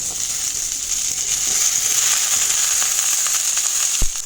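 Sliced okra hitting hot oil with browned onions in a pan sets off a steady, bright sizzle that holds evenly throughout, with a single sharp clink near the end.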